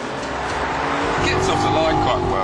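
An Audi TT Mk2 3.2 and a BMW Z4 3.0 accelerate hard side by side in a race. The engines rise into a loud, close roar over a couple of seconds, and someone talks over the noise.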